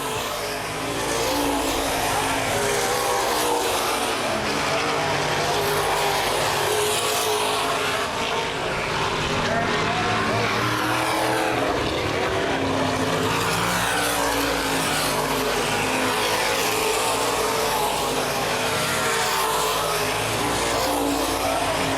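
Open-wheel modified race cars roar around a speedway oval, a dense, continuous wall of engine noise that swells and dips as the pack passes, loud and sustained with no voices.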